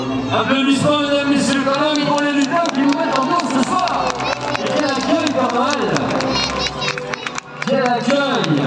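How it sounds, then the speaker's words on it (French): An outdoor Christmas market crowd in Douai claps and cheers for costumed elves who have been dancing, a steady rattle of applause mixed with voices, chatter and lively background sound, loud and close throughout. "Applaudissements, mesdames, messieurs, quand même, pour les lutins qui vous mettent en danse ce soir."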